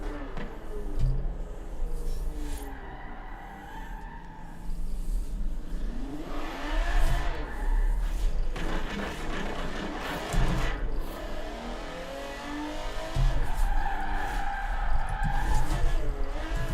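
A car in a third-person driving video game roars continuously with revving engine and repeated tire squeals and skids, loud and busy throughout with no pauses.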